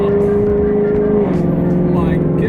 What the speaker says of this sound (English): The moment you tap on the gas pedal, your car just goes.